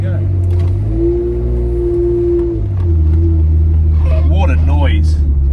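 A Ferrari 355 engine idles and settles with a deep, steady rumble, its pitch shifting slightly, while someone talks over it near the end.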